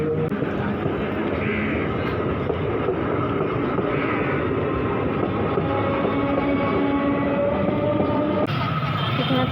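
A train rolls past a closed level crossing on a busy street beside a vegetable market, a loud continuous rail rumble and clatter up close, with faint crowd voices underneath.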